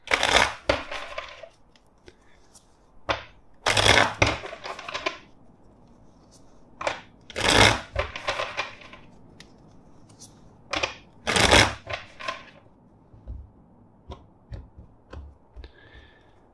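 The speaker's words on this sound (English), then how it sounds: "Let's shuffle four times." Tarot cards are shuffled by hand four times, each a close, brisk riffling burst separated by quieter handling and soft clicks, with no voices.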